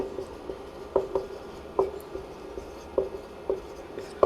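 Pen writing on paper while a maths proof is worked out, a soft scratching with light repeated taps and strokes at an uneven pace, close and quiet with no talk.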